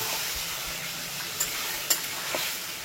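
Chicken keema fries in a pan with a constant loud sizzle, broken by a couple of brief scraping stirs of a spatula.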